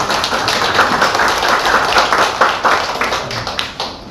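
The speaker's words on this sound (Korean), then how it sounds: "격려의 박수 한번 하시죠" A church congregation claps in encouragement during a Korean worship service. The clapping is loud, close and fairly dense, with uneven individual claps and taps over about four seconds.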